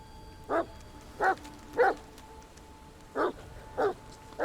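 A dog barks in the video game The Medium, six short, evenly spaced barks at moderate distance over a quiet, low ambient background.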